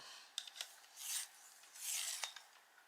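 A terracotta colored pencil being sharpened, giving two soft rasping grinds separated by small clicks and taps, close up and quiet with no voices.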